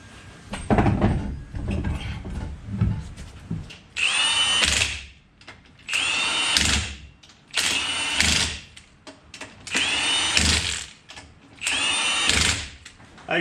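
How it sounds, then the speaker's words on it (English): A rattle gun spins on the wheel nuts of a car after a tyre rotation in a series of five loud, close bursts, each about a second long, separated by quieter workshop handling sounds. "the vehicle has the wheel nuts on, but they're only loose with the rattle gun"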